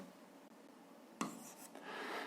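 Algebra values written by hand, a pen rubbing and scratching on paper up close in a short, soft run of strokes with one sharper tap, and no talking.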